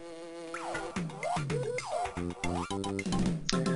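Insect-like buzzing of bees drones over a busy Donkey Kong Country (Game Boy Advance) soundtrack with sliding tones and chiming notes, no talking.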